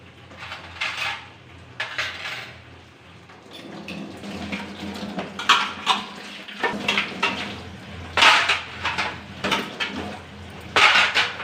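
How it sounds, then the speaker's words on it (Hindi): A spoon washed under a running kitchen tap, with water splashing, intermittent metallic clinks of cutlery and dishes against the sink, close by and uneven in rhythm. "चलो चम्मच को धो लेते हैं।"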